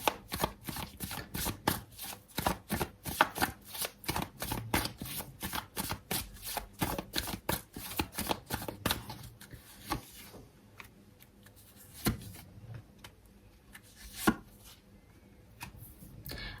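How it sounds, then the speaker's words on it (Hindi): Tarot cards shuffled by hand in a quick, steady run of crisp riffling strokes, then slower drawing and sliding of single cards, close up with no talking. "तो ओके, पहले मैं कार्ड निकाल लेती हूँ।"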